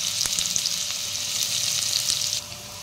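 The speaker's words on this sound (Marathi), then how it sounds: "कांदा व्यवस्थित परतवून घेऊया" Chopped onion frying in oil with black peppercorns, cloves and a piece of cinnamon, giving a steady, close sizzle with occasional stirring scrapes, which eases slightly near the end.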